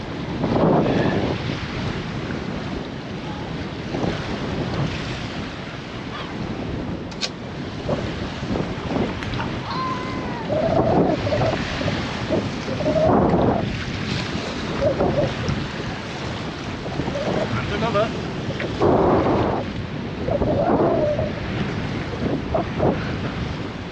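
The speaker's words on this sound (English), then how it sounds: "that wind is probably getting up now" Steady wind rushes and buffets across the microphone aboard a small fishing boat at sea, with water slapping the hull and occasional faint creaks and thumps, and no talking.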